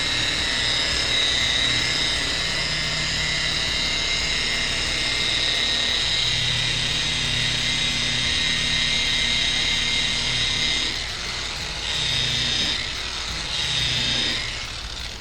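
A rotary buffer polishes the paint of a Foxbody car, its motor holding a steady loud whine at about 1400 rpm with brief dips and surges toward the end; no one speaks.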